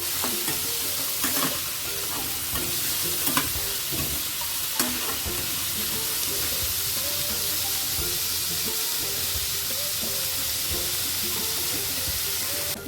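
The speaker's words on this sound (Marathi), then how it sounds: "भाज्या आपण चांगल्या फ्राय करून घेतल्या दोन मिनटं तेलामध्ये" Mixed vegetables frying in oil in a pan for a cheese sandwich filling, a steady loud sizzle and hiss running throughout with occasional stirring scrapes and clicks.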